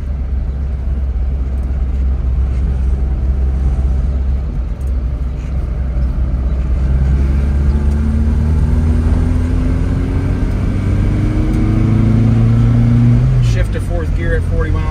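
A 1967 Alfa Romeo Giulia GT Veloce engine hums steadily from inside the car while driving, with rising pitch as it accelerates through the gears, continuous and loud with some wind and road noise.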